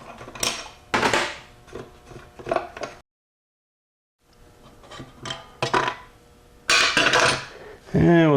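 Metal parts clank and clatter as the piston is pulled from a drag race Powerglide transmission, with bursts of knocking and scraping broken by a short silence, then sharper metallic rattles close by.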